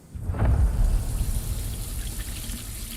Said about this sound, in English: I poured water into the sink